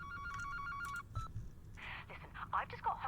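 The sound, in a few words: telephone tones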